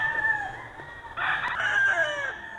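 A White Kelso gamecock on a game farm crows loudly and close by, one long strained crow rising midway, over faint background farm noise.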